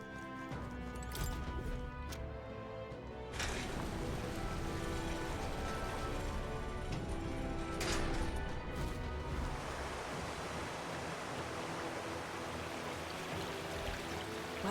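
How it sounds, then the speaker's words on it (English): Water drains away in a video game, a continuous broadband rushing and gurgling wash that holds steady at moderate level for the whole stretch, with occasional brief splashy swells and a faint tonal musical bed underneath. "Water's been drained completely."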